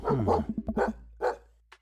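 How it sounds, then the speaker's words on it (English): A dog in the video game Dream Daddy barks several times from behind a door, in a quick cluster of sharp woofs followed by two isolated barks, fairly close and clear. "Since when does Robert have a dog?"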